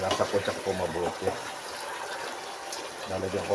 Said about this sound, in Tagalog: Lalagyan ko po ng tubig.